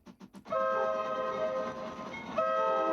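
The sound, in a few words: train whistle in a digital interactive train artwork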